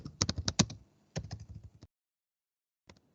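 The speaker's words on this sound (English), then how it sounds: "That's why I'm typing like that." Bursts of rapid computer keyboard typing during a Linux terminal session, a dense clatter of keystrokes, a pause, another run, then a few faint isolated taps after a silence.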